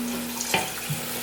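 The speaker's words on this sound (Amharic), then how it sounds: "ቀዝቃዛ ውሃ ጨምራለሁ።" Cold tap water runs briefly into a vessel for teff injera batter, a short close gush with a small splash.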